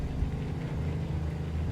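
A Cummins N14 truck engine in American Truck Simulator hums in a steady low drone, even and moderately loud, with no voices.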